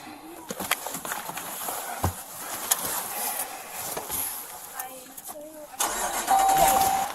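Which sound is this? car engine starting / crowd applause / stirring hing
car engine starting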